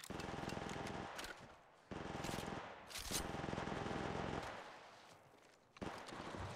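Rapid automatic gunfire from the mobile battle royale game Apex Legends Mobile, loud and dense bursts with brief pauses between volleys, no talking.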